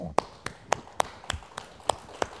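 Slow, evenly spaced claps, about nine sharp distinct hits, sounding like one or a few people applauding rather than a full audience, for Nyong Franco at an event.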